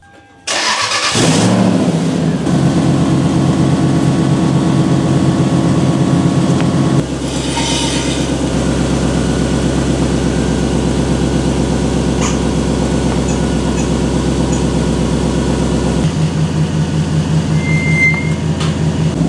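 A Lexus LS400 on Airlift 3H air suspension is lowered to the ground, with a loud burst at the start followed by a steady, close mechanical drone and hiss that shifts in tone partway through and runs on continuously.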